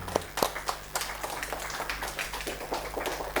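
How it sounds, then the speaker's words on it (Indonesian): Children in a classroom clap their hands together, producing a steady run of quick, fairly close claps that continue for a few seconds with little talk. "Tepuk tangan dong untuk kalian semua."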